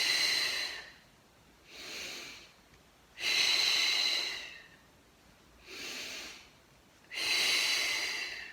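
Breathing during a Pilates class for osteoporosis, in through the nose and out while tightening the core and pelvic floor: five slow, audible breaths close to the microphone, alternating longer and shorter, separated by quiet pauses.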